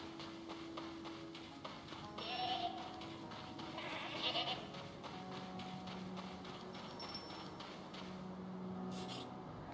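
A goat in the video game Reka gives short bleats at a moderate distance over a soft game soundscape, with a couple of clearer calls standing out.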